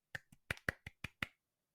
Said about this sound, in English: As in, clapping.